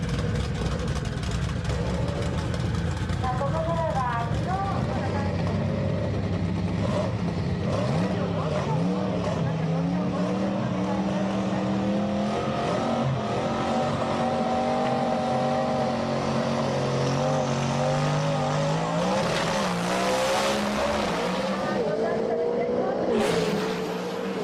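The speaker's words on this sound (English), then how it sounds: "Here's the race you've been waiting for, the battle of the twin-turbo V8s." Twin-turbo V8 drag race cars at a Sendai pro drag racing event, engines droning and rising in pitch through long pulls, loud and continuous with a voice talking over them.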